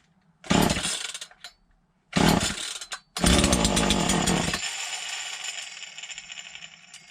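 A Poulan Predator chainsaw fires in two short loud bursts that cut out, then catches and runs on, its engine revving hard before settling into a fading, uneven idle.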